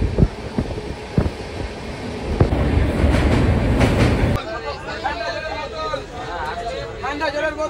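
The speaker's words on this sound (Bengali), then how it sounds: "আর এখন কিন্তু আমাদের এই ট্রেন ঢুকলো বোলপুর শান্তিনিকেতন বোলপুর জাংশন" A passenger train pulling into Bolpur Shantiniketan junction, with rattling carriages and clacking wheels that give way to station bustle as people talk nearby.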